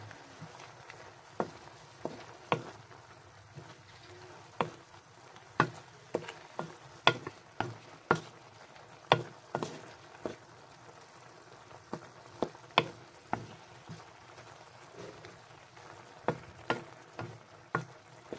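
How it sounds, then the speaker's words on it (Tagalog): Broccoli, chicken and tofu being stirred in a pan, a spatula scraping and knocking in uneven strokes over a soft frying hiss, close and moderately loud with no talking. "Then haluin natin ulit."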